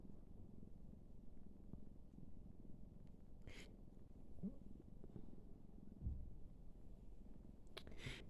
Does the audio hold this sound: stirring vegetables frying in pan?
no